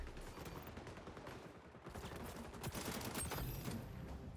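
AK rifle fire in the video game XDefiant, heard as dense, rapid bursts of gunshots that run together into a fusillade. It is distant and quiet in the mix, with no talk over it.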